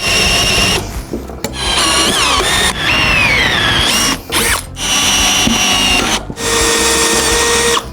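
Dnipro-M power drill driving screws, loud whining motor bursts that rise and fall in pitch, stopping and restarting several times close up.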